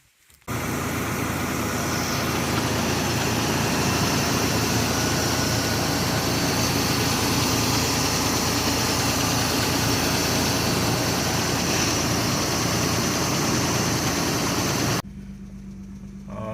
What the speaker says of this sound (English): Now we're just gonna start the truck.